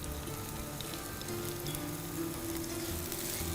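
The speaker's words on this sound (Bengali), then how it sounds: "এগুলো একটু ভেজে নিচ্ছি।" Chopped onion and garlic frying in about one and a half tablespoons of oil, a steady close-up sizzle that runs without a break and carries faint crackles, with no talking over it.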